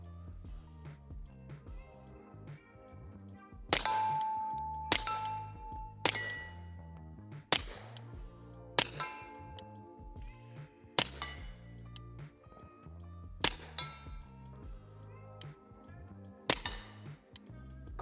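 A Beretta 30X Tomcat pistol fires about eight spaced shots, each sharp crack followed by the ring of a struck steel target, loud and close outdoors with short pauses between rounds.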